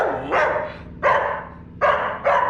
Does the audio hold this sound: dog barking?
yes